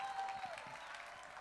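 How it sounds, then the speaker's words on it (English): An audience at a summer camp gathering claps in sustained applause, a steady wash of hands that holds at an even level throughout, with a brief high tone at the start. "Would you guys give you a round of applause?"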